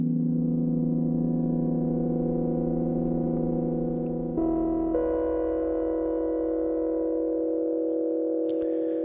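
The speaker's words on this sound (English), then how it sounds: "Let's just hear how the cross mod sounds first." Sustained synthesizer sine tones cross-modulating one another, like a ring modulator, producing a steady, buzzing metallic drone that shifts pitch partway through, ending with a brief high chirp.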